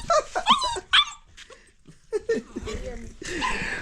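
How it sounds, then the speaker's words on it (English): Puppies wary of a stranger give sharp yips, barks and whimpers at close range, mixed in with a person speaking. "if my puppy don't know you, they will start making noise here and there"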